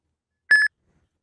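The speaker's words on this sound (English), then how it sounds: "Your phone will start beeping, and the screen will flash." A single short electronic beep from an Uber driver app trip request, bright and clean, rising out of silence and cutting off quickly.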